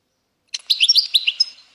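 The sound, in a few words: goldfinch song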